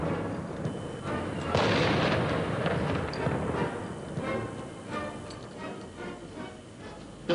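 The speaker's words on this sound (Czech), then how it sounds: "tady u podzemní garáži něco bouchlo a tady to strašně dýmí kolem Rudolfína" A blast goes off in an underground garage by the Rudolfinum on Palach Square in Prague during an anti-terrorist exercise. It arrives as a heavy, rumbling roar that swells early, lingers and slowly fades.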